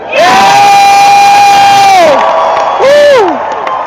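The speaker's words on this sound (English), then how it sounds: "So let's give a cheer for every patriot who showed up today." A large outdoor crowd at the No Kings rally in Boston cheers and whoops loudly, with sustained shouting voices swelling, then easing, then a second burst, close and very loud.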